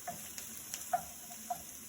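Onions cooking gently in a pan while being stirred, a soft, low sizzle with a few light clicks and scrapes of the utensil at intervals, quiet and close.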